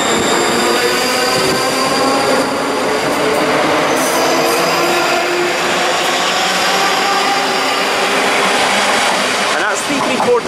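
A Class 334 electric passenger train, units 334014 and 334034, runs through a station at Dalmuir with a loud continuous rumble and motor whine, wheels faintly squealing, for the whole stretch.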